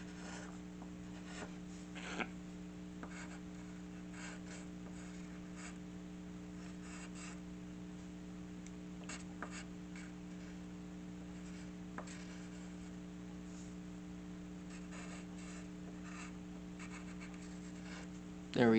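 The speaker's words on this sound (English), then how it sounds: "Now we draw this part here." Pencil moving across paper while sketching a cartoon digimon figure, a soft steady scratching and rubbing with brief strokes, heard close under a constant low electrical hum.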